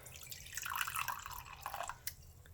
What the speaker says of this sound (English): Into the second one, I'm going to put another 1/4 cup of water.